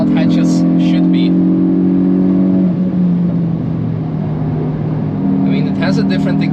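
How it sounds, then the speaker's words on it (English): A Hyundai i20 N hot hatch with a different exhaust and OPF delete accelerates on the Nürburgring track, a steady loud engine drone that shifts pitch midway, heard from inside the car while someone talks over it. "it has a different exhaust with a OPF delete"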